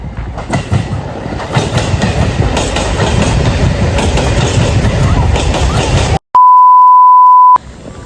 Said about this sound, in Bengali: সামনেই চলে এসছে ট্রেন